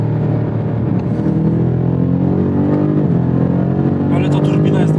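BMW M5 CS pulling hard from third gear, its engine note droning loud and steady throughout with a rising roar near the end, while people talk inside the car over it.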